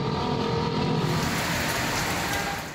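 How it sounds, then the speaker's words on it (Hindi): Heavy rain pours down in a continuous loud hiss and patter, a dense unbroken wash of water hitting the ground with no voices. "रायवंड में स्याह बादल जमकर बरसे, बारिश की बौछार हुई तो जल थल एक हो गया।"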